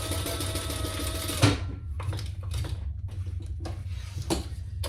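A sewing machine runs steadily for about a second and a half while stitching the side seam of a bag pattern, then stops, leaving faint handling clicks and rustling.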